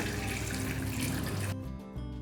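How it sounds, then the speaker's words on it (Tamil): Water pours steadily over soaked, sprouted chickpeas in a pot with a continuous splashing rush, then stops abruptly after about a second and a half, leaving a faint trickle. "இப்போ இது வந்து முழுகிற அளவுக்கு தண்ணி ஊற்றிக்கலாம்"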